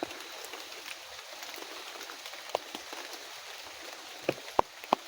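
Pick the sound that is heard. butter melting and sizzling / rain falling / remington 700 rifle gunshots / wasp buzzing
rain falling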